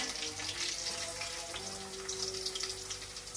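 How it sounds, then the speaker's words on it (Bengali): Onion added to oil already frying dried chili and garlic in a home kitchen, a soft continuous sizzle with faint crackle, fairly quiet and without talk. "সেখানে আমি সবসময় একটুখানি শুকনো মরিচ এবং রসুন আগে দিয়ে নিই। আর তারপরে দিচ্ছি"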